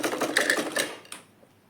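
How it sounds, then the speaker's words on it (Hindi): A sewing machine runs double stitching along a purse belt, a dense, fast mechanical whir lasting about a second before it stops and fades, with no talking. "इधर डबल सिलाई कर लेंगे इस पे हम"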